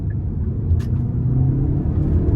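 A 2015 Hyundai Santa Fe Sport 2.0T pulls hard under full throttle, its engine a loud, steady low rumble heard from inside the cabin with no talk.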